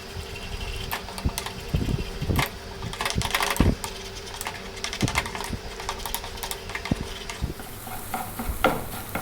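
Three beaten eggs cooking in a touch of hot oil, loud sizzling under busy, continuous scraping and tapping as the eggs are kept moving in the pan, with clattery utensil hits throughout; no talking.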